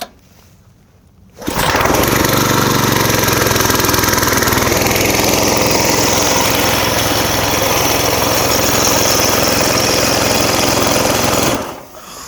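Small Hyundai Hanaro compact tiller engine starts abruptly after brief quiet, then runs loud and close with a steady buzzing, rattling drone for about ten seconds before cutting off.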